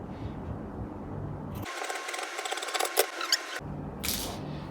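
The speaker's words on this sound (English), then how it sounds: "I'm going to go ahead and cut out this pattern and show us exactly what we have drafted" Scissors snip through a drafted fabric pattern for a v-neck wrap dress, a close run of crisp, irregular cutting clicks lasting a couple of seconds with a brief follow-up snip, no talking.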